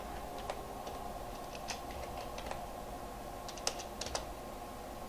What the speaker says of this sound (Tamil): இங்கே சயின்ஸ்ன்னு டைப் பண்ணுறேன்